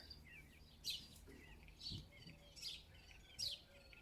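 Birds singing in the morning at about eight o'clock, several short bright chirps and calls repeating every second or so, faint and somewhat distant over a quiet outdoor background.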